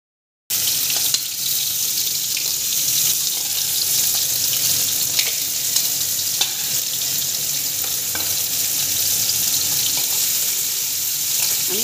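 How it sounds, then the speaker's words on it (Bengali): Sea crabs frying one at a time in hot oil, a steady, dense sizzle that holds at an even level throughout with occasional small pops and crackles, no voices. "এবার আমি একটা একটা করে ভেজে নেব।"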